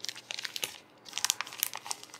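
A new laptop screen matrix for an MSI MS-16Y1 notebook is pulled from a plastic bag, making close, busy crinkling and rustling with a brief pause midway, with no talking.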